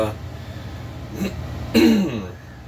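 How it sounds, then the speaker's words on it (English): A person clears their throat twice, a short rasp followed by a louder, harsher one, close to the microphone. "I just ate a bunch of hot stuff, so I'm trying to clear my throat out."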